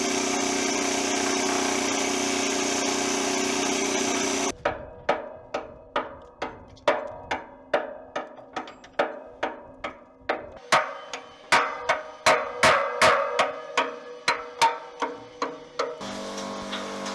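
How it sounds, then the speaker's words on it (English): Hammer, chisel and needle gun working on a steam locomotive smoke box: a steady buzzing clatter of the needle gun for about four seconds, then a long run of sharp, ringing metallic hammer strikes roughly every half second, close and loud. "The hammer and chisel was tried on the smoke box, and also the needle gun"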